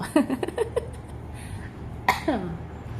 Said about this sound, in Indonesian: Wah, batuk aku gemoy banget ya.